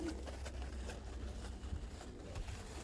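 Volski pigeons coo quietly over low background noise, soft repeated calls rising and fading through the stretch with no voices.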